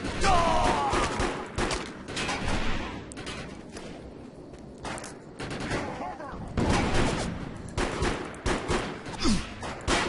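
Gunfire rattles through a firefight in the video game Defiance, with repeated loud bursts of automatic shots and short pauses between volleys, heard close.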